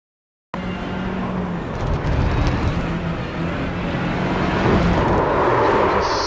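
A steady, roaring GTD racing car engine in the iRacing video game, a drone that builds slightly and holds, loud and continuous with no talking.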